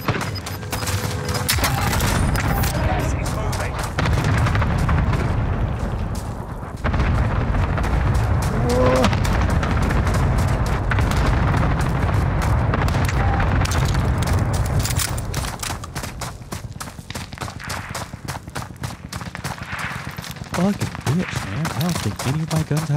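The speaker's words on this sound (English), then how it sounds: "Cluster strike is active." A cluster strike in Call of Duty: Warzone Rebirth sets off heavy, booming explosions and crackling gunfire in a long, dense barrage, with players talking over the din.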